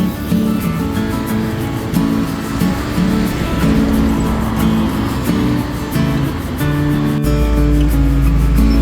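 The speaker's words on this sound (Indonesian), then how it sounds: "Ini bis yang kedua yang diberangkatkan dari Subterminal Grosir Comal Pemalang" A Sinar Jaya bus pulls away from the Comal Pemalang wholesale bus subterminal at night, its engine a steady, loud, close rumble with a continuous low drone that deepens sharply near the end.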